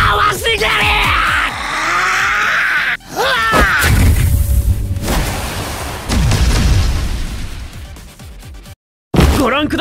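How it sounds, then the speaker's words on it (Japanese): A massive explosion in the One Punch Man video game, with loud booming bursts and shouting voices over a dense rumbling roar, cutting to silence briefly near the end before the sound returns. "ご覧ください、ものすごい爆発です。"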